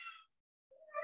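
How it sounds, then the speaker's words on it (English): A house cat meows twice, a brief faint cry, then a short silence and a second rising meow, heard alone in a quiet indoor room. "Hasta un gato se escucha."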